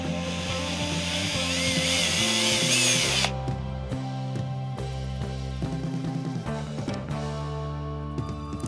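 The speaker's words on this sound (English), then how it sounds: "So we're gonna drill this hole and get the other riv nut installed." A power drill bores a hole for a riv nut during metal fabrication work, a loud steady whine for the first few seconds, then dropping to a lower, rougher grinding as the bit works through.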